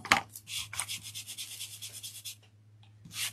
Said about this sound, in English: So I got a sanding block